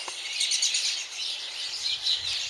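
Sparrows chirping in quick, scattered bursts outdoors in a tree, fairly close, with faint low rumbles underneath.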